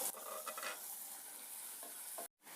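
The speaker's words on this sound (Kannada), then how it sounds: "ಈರುಳ್ಳಿ ಸ್ವಲ್ಪ ಕಲರ್ ಬದಲಾಗೋವರೆಗೂ ಫ್ರೈ ಮಾಡ್ಕೋಬೇಕು" Chopped onions sizzling steadily in a hot pan for a tomato kurma gravy, with ginger added, under a continuous fry hiss and occasional scraping stirs, close and alone.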